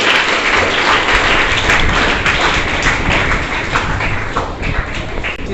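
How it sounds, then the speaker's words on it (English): Students in a school geography quiz class clap for a classmate who answered correctly, a dense, steady burst of applause filling the room throughout at close range. "So clap for Sakshi"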